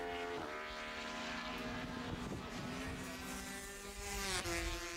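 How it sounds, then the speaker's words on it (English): A small Aprilia 250 two-stroke racing motorcycle howls past at a classic bike race meeting, its high engine whine holding steady and then dropping in pitch as it goes by, fairly distant. "That's that wee 250 Aprilia"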